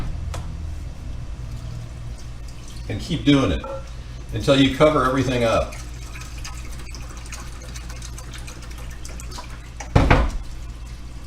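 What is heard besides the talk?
water poured from a can over rice and pulled pork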